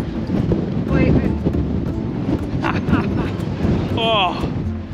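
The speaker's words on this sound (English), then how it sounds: "Reporting live from the middle of a hurricane. It's windy." Strong winter wind in Bodrum, Turkey buffets the microphone in a steady roaring rush while people talk over it.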